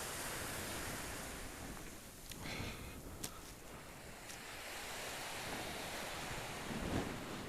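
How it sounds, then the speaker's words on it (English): Steady seaside wind in Sardinia buffets a microphone with a broad, continuous rush, fairly faint overall, with a few brief gusts and crackles and no voices. "There's just a bit of wind here."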